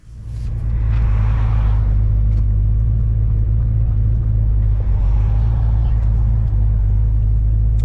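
Great Race car #151 rolls in at a lunch stop in Loudon, New Hampshire, its engine a steady, loud, close rumble that rises at the start and holds, with faint background noise.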